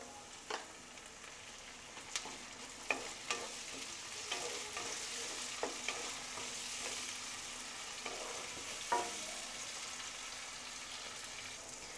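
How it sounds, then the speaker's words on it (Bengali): Onion and roughly chopped tomatoes fry in a pan for Bengali-style aloo matar, a steady soft sizzle broken by a few sharp spatula clicks and scrapes as the mix is stirred, fairly faint and without talk. "পেঁয়াজটাকে একটু ফ্রাই করে নেব বন্ধুরা"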